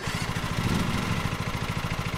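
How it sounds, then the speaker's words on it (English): A yellow lawn mower engine runs in the Lawn Mowing Simulator video game, a steady low, pulsing idle chug with a faint mechanical clatter and no talking. "So let's fire up the engine."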